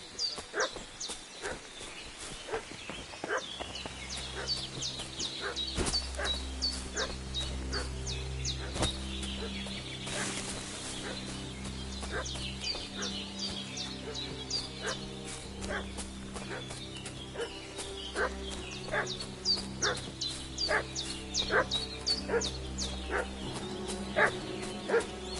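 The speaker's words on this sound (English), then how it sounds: "What's that dog making such a fuss about?" A dog barks repeatedly in a medieval village in Kingdom Come Deliverance 2, sharp yips and barks scattered throughout over steady game music and ambience, no one speaking.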